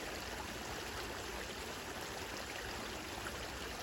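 Runoff water flows steadily in a small outdoor stream in late winter, a soft, continuous rushing and trickling that stays even throughout with no voices.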